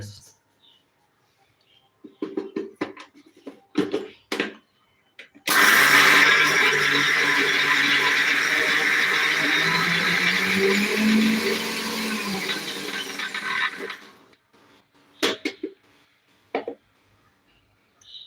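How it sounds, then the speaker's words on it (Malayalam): A kitchen mixer grinder whirs steadily for about eight seconds while grinding ingredients for a homestyle Kerala chutney curry, loud and close, with scattered clatter before it starts and after it stops. "നമുക്ക് മിക്സി വെച്ച് അടിച്ച് റെഡിയാക്കി എടുക്കണം"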